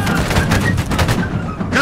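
Musket volley in Holdfast: Nations at War, a dense, overlapping crackle of many shots blending into a sustained roar over about two seconds, loud and continuous with battlefield din.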